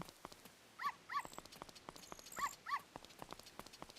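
Dog barking in The Legend of Zelda: Ocarina of Time at night, four short yelps in two pairs over soft repeated game sound effects, with no talking.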